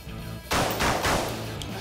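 Loud pistol shots at an outdoor shooting range, three booming reports in quick succession with ringing decay, over a steady background hum.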